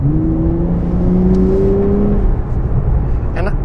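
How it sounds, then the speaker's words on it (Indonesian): Six-cylinder engine of a Nissan Fairlady Z Nismo revving in sport mode, a loud steady drone with rising tonal pitch sweeps as the revs climb, continuous and close throughout. "Knalpotnya lebih ngebuka gitu. Jadi ada deruman 6 silindernya."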